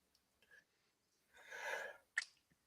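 A single quiet sneeze from one person indoors, a short breathy burst with a sharp release, set among soft breaths and small mouth noises.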